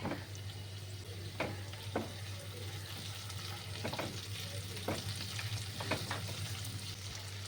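Chopped tomato and beans are stirred in a pan for suji upma, sparse quiet scrapes of the spoon over a soft steady sizzle with a low hum, no talking.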